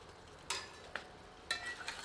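Mutton with fried potatoes is stir-fried over high heat, four quick scraping, sizzling strokes of a spoon in the pan rising out of a faint background.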